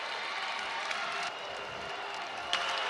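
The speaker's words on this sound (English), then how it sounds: "Crowd, both sides on their feet." A women's basketball crowd in an arena cheering and applauding with both sides on their feet, a dense, steady roar of voices and clapping throughout.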